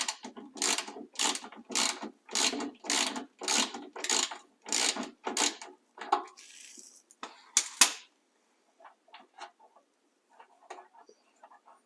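Close ratchet loosening a bolt on a Chevy Silverado, with a steady run of about ten rapid clicking bursts, a brief scrape, then quieter scattered clicks and handling noise, with no talk.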